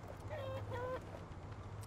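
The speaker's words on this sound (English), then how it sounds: "There's some chickens down there." Chickens cluck and crow faintly in the Endzone survival colony-builder video game, a brief pair of calls over a low steady background hum.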